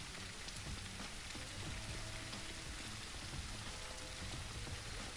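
Steady rain in the zombie survival game Surroundead falls as a dense, continuous hiss of drops on surfaces, soft and even throughout with no voices.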